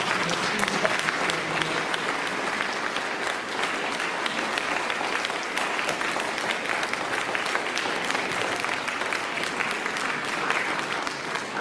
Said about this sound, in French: Je vous invite à leur donner quand même un grand applaudissement